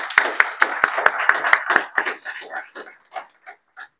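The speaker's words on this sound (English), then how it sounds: "Let's give him a warm Mauritius round of applause." A small audience at the opening ceremony of a film masterclass in Mauritius claps for a visiting South African cinematographer. Sharp, close, fairly rhythmic claps start together, then thin out into a few scattered, separate claps before fading away.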